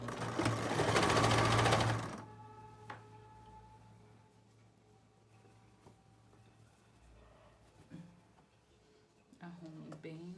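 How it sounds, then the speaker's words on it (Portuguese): A sewing machine stitches the lining of a bathroom set in one loud, steady run of about two seconds, then stops; quieter handling noises and a soft voice follow. "Costurar do lado de cá"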